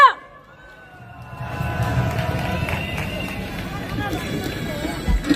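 A crowd at an outdoor candlelight rally breaks into steady, dense applause and cheering to welcome a singer on stage, rising after a brief quiet start and holding a continuous, fairly loud wash of clapping and crowd noise.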